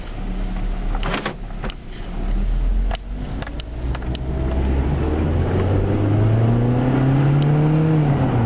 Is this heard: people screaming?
no